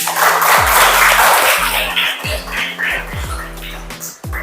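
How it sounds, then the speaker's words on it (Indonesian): Classroom of students applauds a group presentation with loud, dense clapping, mixed with a steady electronic hum and rhythmic low thumps underneath. "Oke, beri tepuk tangan untuk kelompok 1 dulu."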